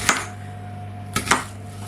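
An onion is chopped on a small cutting board with a knife, giving three sharp, close knocks: one alone, then a quick pair after a pause, over a low steady kitchen hum.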